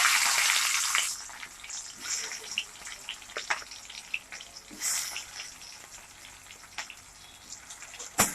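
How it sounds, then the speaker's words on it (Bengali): Potatoes and tomatoes drop into hot fried spices in a pan, setting off a bright hissing sizzle at first that settles into softer, intermittent crackling and spitting. "একটু ফোড়নটা ভাজা হয়ে গেছে, এর মধ্যে আলু টমেটোগুলো দিয়ে দিচ্ছি"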